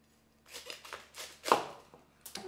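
A knife cuts through a fresh head of cauliflower with a series of crisp, close crunches and one louder snapping break, quiet overall with no talking.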